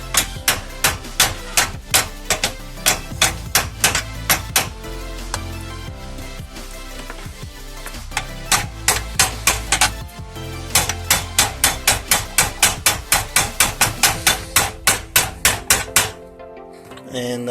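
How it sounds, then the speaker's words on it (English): A hammer taps a Badger garbage disposal into its kitchen sink mount, with loud, rhythmic bursts of metallic strikes in quick runs separated by short pauses. "I feel assured that the hammer will do the job anyways."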